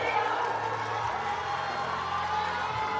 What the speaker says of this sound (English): The Chinese athlete receives a rapturous round of applause.